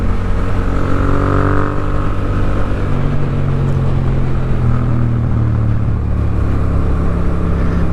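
A 2023 Yamaha MT07 motorcycle being ridden, its engine droning loud and close with a steady low rumble and shifting pitch as revs rise and fall, wind roar mixed in, no talking.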